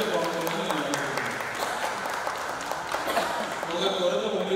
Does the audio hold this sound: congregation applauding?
yes